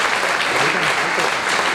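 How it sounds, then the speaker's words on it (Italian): Audience applause for an alpine choir at an Alpine games choir festival, a dense, steady wash of clapping from a large crowd throughout. "Ancora con un grande applauso per i nostri paolarini"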